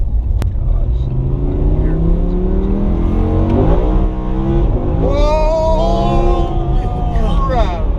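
A rear-wheel-drive Lamborghini Huracan engine revs hard and climbs through rising, then falling, tones as the car accelerates, loud and close from the cabin, with a voice talking over it.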